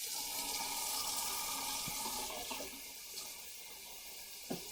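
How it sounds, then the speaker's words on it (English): Water pours steadily from cans into a cooking pot in a home kitchen, a continuous rushing splash that tapers off, followed by a few small clinks. "we're going to put a couple of cans of water"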